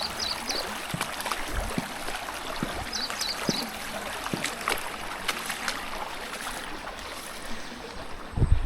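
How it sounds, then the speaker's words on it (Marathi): Shallow forest stream being waded, with soft trickling water under a hiss of ambient noise, scattered splashes and sloshing steps, and a louder splash near the end. "इथे लागला आहे आपल्याला पहिला ओढा हा क्रॉस करायचा आहे"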